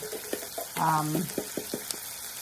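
Food sizzles and crackles in a hot pan with bursts of spitting, while a utensil clinks and scrapes as it is stirred, cooking down before a gravy is made.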